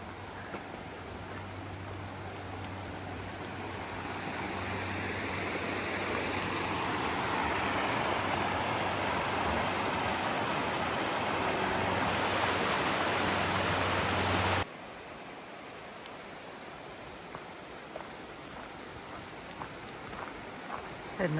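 Steady broadband rushing of Linn Run river water, loud and continuous, then cutting abruptly to a quieter, thinner outdoor ambience for the last few seconds.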